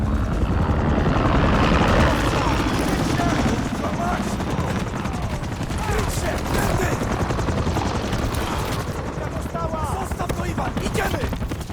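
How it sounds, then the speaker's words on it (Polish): Helicopter rotor thudding loudly and continuously with bursts of rapid gunfire during a Call of Duty Modern Warfare 3 campaign mission, with voices talking over the action. "Charlie, mieli zająć się śmigłowce!"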